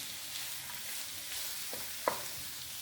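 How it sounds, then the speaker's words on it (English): Coconut fried rice with spring onions sizzles steadily in a hot pan while a utensil stirs and scrapes it, with a sharper clack near the end. "Keep frying it, turning it."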